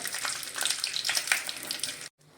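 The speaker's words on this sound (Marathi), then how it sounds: "तळून घेऊया शेंगदाणे तेलामध्ये" Peanuts frying in oil give a bright, close crackling sizzle with popping bursts that runs steadily, then cuts off abruptly near the end, leaving faint background.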